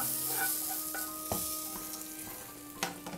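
Kootu curry, a mixed vegetable dish for Onam, stirred in a pan over heat, with a steady soft sizzle and a few sharp scrapes and taps of the spoon against the pan, no voices.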